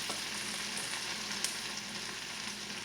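White mushrooms sauté in a hot pan with a continuous, even sizzle, broken by a couple of faint utensil clicks near the middle.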